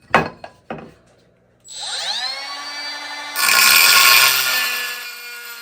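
Power tool cutting hard ceramic tile: a few knocks, then a high whine spins up and bites into the tile with a harsh, loud, steady grinding screech, close and without talk.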